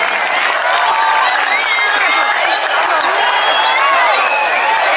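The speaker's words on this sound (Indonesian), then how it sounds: "Tepuk tangan untuk Cak Percil, Kuntet dan Hengki" A crowd at an outdoor anniversary celebration in Kendal applauds and cheers for performing comedians, a loud continuous roar of clapping with whistle-like cheers on top.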